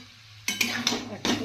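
Chow mein with fried egg, pepper and soy sauce is stir-fried in a pan, with three close, scraping, clattering bursts of tossing against a soft sizzle.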